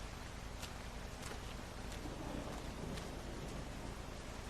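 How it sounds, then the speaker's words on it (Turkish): Steady, faint rain hisses evenly throughout, with a few soft crackles mixed into the constant patter. "Yağmur yağıyor şimdi şimşek çakacak"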